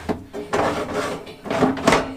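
Wooden kitchen drawers in a DIY Iveco Daily campervan build slide open and shut several times in quick succession, each close giving a short, near, hollow knock.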